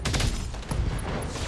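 SRM missiles launch from mechs in the BattleTech game in a rapid volley of dense, overlapping blasts and thuds, loud and sustained, with no voices.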